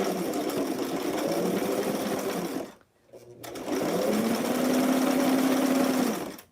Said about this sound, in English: Make sure I'm gonna sew forward.